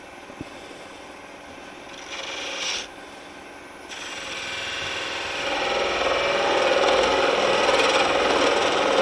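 Hard oak spins on a wood lathe while a cutting tool rubs and scrapes against it, starting quietly with a brief burst of cutting, then growing into a steady, loud, close scraping hiss.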